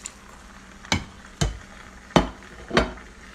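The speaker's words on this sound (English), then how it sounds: "I'm just going to add my fish. Stir gently." Fish being stirred gently into a pot of afang soup, heard as four separate knocks and scrapes of a utensil against the pot, spaced unevenly and fairly close, with no talking.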